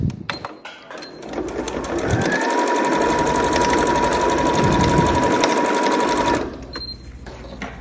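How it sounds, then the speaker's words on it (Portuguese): A sewing machine runs steadily for several seconds, stitching a finishing seam along the folded edge of a fabric multipurpose bag, its close, rapid needle clatter starting and stopping with a few handling clicks around it. "Vamos fazer uma costurinha aqui de acabamento."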